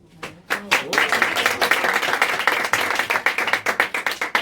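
An audience at a live comedy show breaks into applause after a brief moment of voices, and dense, loud clapping builds quickly and carries on steadily to the end.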